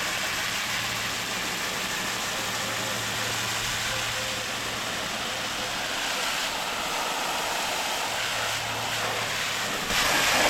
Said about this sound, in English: you just want to spin it in both directions to make sure you get it really clean